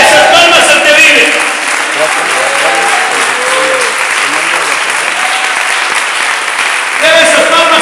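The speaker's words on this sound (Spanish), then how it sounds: "Dele esas palmas y le puede dar gloria a Dios" A church congregation claps steadily and loudly throughout, with a preacher's amplified voice and sung or shouted phrases layered over the rhythmic applause.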